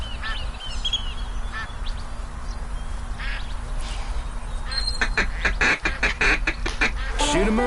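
Ducks quack repeatedly in a duck hunting video game, with a cluster of louder calls in the second half over a constant game background hum.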